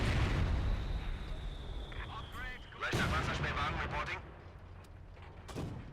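Company of Heroes 2 battle with double German infantry guns and mortar pits firing, heavy booming blasts and rumbling explosions layered over continuous battlefield din, with someone commentating over it.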